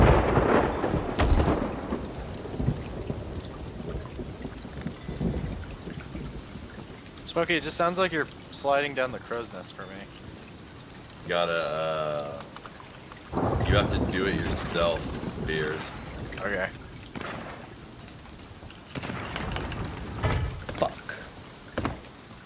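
Storm at sea in the pirate video game Sea of Thieves: heavy rushing rain and wind with rumbling thunder and crashing bursts, loud and continuous, with players talking over it throughout.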